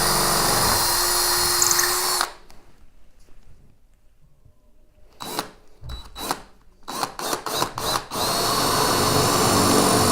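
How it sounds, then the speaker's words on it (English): Power drill boring into a ceiling while a curtain rod is hung, a loud steady whine for about two seconds, then a pause and a run of short stop-start bursts before another long continuous drilling stretch. "I'm going to hold the drill so we don't scratch the ceiling"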